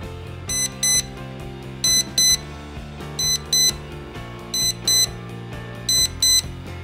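An LED mirror digital alarm clock beeps in quick pairs of high electronic tones, repeating at a steady rhythm over soft background music.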